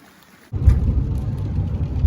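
Rain falls outdoors in a steady, dense hiss and patter that starts abruptly after half a second of near silence and then keeps on evenly, close and fairly loud.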